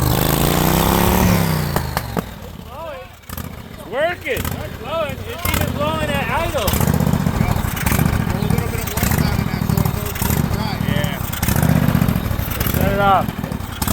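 A homemade turbocharged lawnmower engine runs loudly and steadily up close, with revving swells, while people talk over it.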